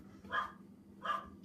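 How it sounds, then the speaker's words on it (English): Two muffled dog barks about a second apart, sounding distant as if from another floor, over a low background hum. "you can probably hear her barking upstairs"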